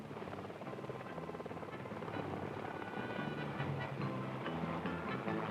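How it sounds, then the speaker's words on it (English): A helicopter cruises over snow, ice and rock in Greenland, its rotor chop and engine drone steady and fairly loud throughout, with no voices. "the helicopter heads north"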